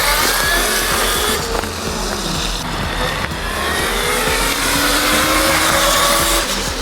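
A modified 5000 watt Funbike MXR1500 electric motorbike accelerates hard, its motor whine rising steadily in pitch, loud and close throughout with no voices.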